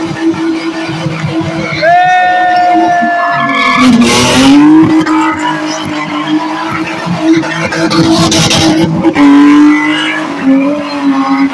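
A car at a street race skids with squealing, burning tires over a loud, sustained engine roar. The squeal rises and falls in long wails and a crowd is faintly audible underneath.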